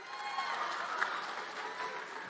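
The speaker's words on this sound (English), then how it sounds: "I'm going to pretend you're clapping for Jesus, okay?" Audience at a Turning Point USA event claps steadily, a faint, distant patter of applause that holds evenly throughout.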